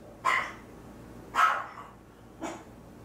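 Dogs bark three times, each a short sharp bark with a pause between, heard at moderate distance in an otherwise quiet room.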